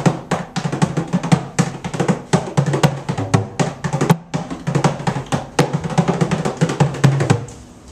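A Glenluce 14-inch tunable barrel bodhran is played in a steady, driving rhythm of quick strokes, with deep booming tones mixed among lighter taps.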